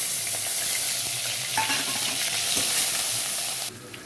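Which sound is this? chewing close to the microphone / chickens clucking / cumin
cumin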